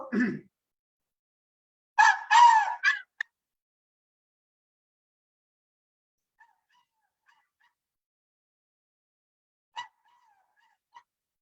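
A human voice imitating the call of a wary wild jungle fowl, a short throaty burst followed by a quick run of clipped, rhythmic syllables, close and alone against near silence, with a few faint clicks afterward.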